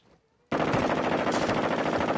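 A turret machine gun in Warzone 2.0 DMZ breaks a short quiet moment and fires in a loud continuous burst that runs to the end.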